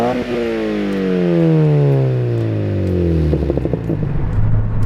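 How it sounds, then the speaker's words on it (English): Mazda NC Miata fitted with a RoadsterSport race exhaust revving, a loud close engine note that climbs then eases back down in pitch, ending with rough burbling pulses near idle. "The exhaust note actually progressively mellows as the revs rise"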